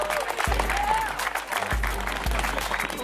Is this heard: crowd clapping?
yes